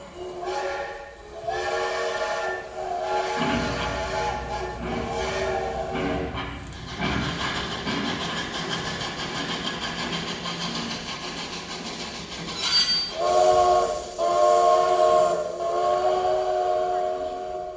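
A steam train departs as a stage sound effect in a theatre one-act play, with chugging rail clatter, rumbling wagons and a loud, sustained steam whistle blast near the end.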